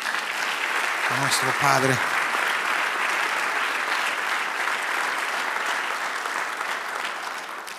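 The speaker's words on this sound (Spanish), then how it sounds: "Dale un aplauso grande" A church congregation applauds loudly and continuously during a sermon, a dense sustained wash of clapping from start to finish, with a voice briefly speaking near the beginning.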